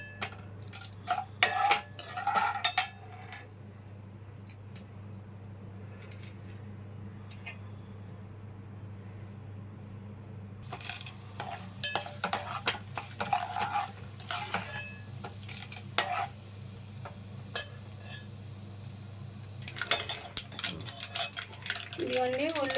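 Mustard seeds, cumin, chana dal and urad dal tempering in a pan, with repeated clinks and scrapes of a spoon against metal and light crackling in bursts, nearby, under a steady background hum.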